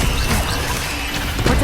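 Confringo blasting spell going off in the Hogwarts Legacy video game, a dense, sustained crackling roar with a sharper crash near the end, loud and continuous across the short moment.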